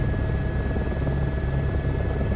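A helicopter takes off in Microsoft Flight Simulator 2024, giving a loud, steady rotor and engine drone with a persistent high whine, continuous and close, with no talking.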